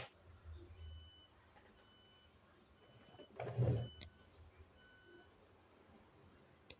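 An Epson LX310 dot matrix printer switched on while its carriage fails to move, giving a row of regular short electronic beeps with a brief mechanical clunk near the middle, fairly quiet, no voices.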